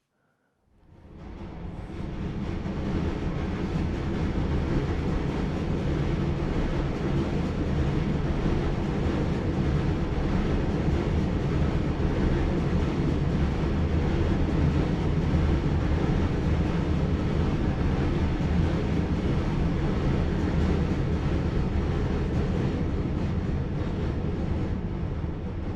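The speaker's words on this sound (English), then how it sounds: "hopefully you'll hear some elevation of the train noise" A train crossing a bridge, heard from 20 to 30 metres below: a loud, steady rumbling roar that swells up within the first two seconds and holds without break to the end.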